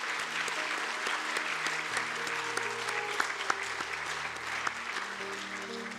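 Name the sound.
applause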